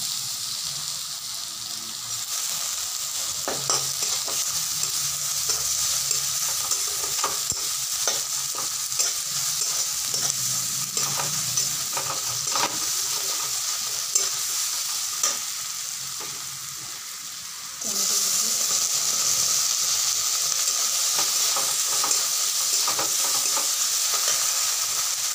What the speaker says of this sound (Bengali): পেঁয়াজটা হালকা ভাজা হয়ে গেছে, আমি এখন গ্রেট করে আদা রসুন দিয়ে দিচ্ছি।